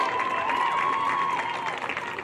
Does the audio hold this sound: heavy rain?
no